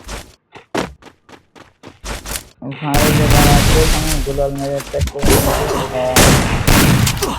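Video game gunfire with a shotgun and a Desert Eagle: a run of sharp, separate shots, then a dense, loud, continuous barrage of overlapping blasts and booms.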